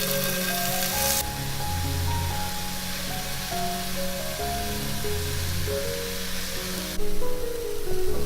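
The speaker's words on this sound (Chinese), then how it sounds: "然后放在锅里面煎" A slice of winter melon dipped in soy sauce pan-fries in a pan, a steady close sizzle with a soft hissing spatter throughout that briefly swells louder near the end, and no voices.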